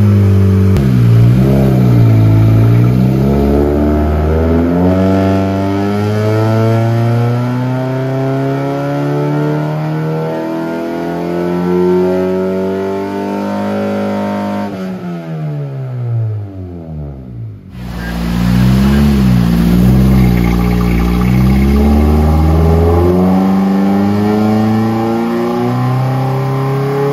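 A K24Z-swapped Honda EK hatchback street and track car revs its engine up and down repeatedly, loud and close, with a brief drop-off near the middle before the revving picks up again; no talking.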